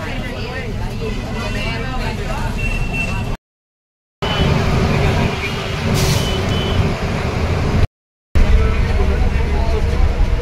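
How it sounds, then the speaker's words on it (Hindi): Bus pulling out of the Surat bus depot, a GSRTC luxury coach with a loud engine rumble and intermittent warning beeps, while someone talks over it, broken by two short silent gaps. "अभी हम सूरत बस डिपो से डिपार्चर होते हुए"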